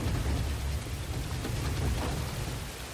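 Steady rushing waterfall in the Star Wars Jedi: Fallen Order video game, a dense, continuous wash of falling water at moderate level with no voices over it.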